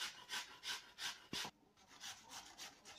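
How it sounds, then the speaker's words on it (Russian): A zucchini is rubbed over a coarse grater in steady repeated strokes, a soft scraping rhythm heard close up and fairly quiet, with one sharper knock partway through. "Теперь будем их натирать на терке. Трем на крупной терке."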